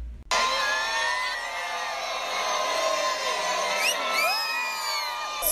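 A large crowd cheers and whoops for the Pope at Sainte-Croix, a dense, loud roar of voices that starts abruptly and holds steady, with higher shouts rising out of the mass.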